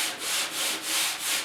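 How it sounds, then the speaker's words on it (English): Hand sanding on a car door panel during bodywork on a 1956 Mercury, a close, hissing rub in steady back-and-forth strokes, about four passes with no talk. "that's the next step, just a little bit of sanding"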